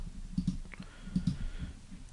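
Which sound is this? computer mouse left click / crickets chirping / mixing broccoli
computer mouse left click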